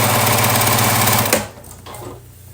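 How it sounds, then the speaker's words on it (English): A sewing machine stitching pieces of a quilt heart block, its steady fast whirring drone running loud and close before stopping abruptly, leaving quieter handling noise. "We're just going to sew 1/4 of an inch away from the line."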